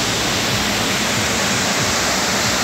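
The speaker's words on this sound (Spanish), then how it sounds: "de la famosa cascada El Pailón del Diablo" Pailón del Diablo waterfall near Baños, Ecuador: a loud, close, roaring wash of falling water, steady and unbroken like dense white noise, with nothing else audible over it.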